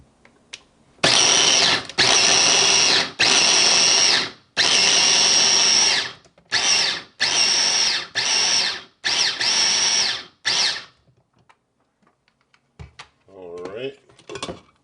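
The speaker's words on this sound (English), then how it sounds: "Got things blended down a good bit. Overall, it's kind of a flour consistency." A blender grinding peanuts into flour roars in repeated loud bursts of a few seconds each, separated by short pauses, then stops; faint handling clatter follows near the end.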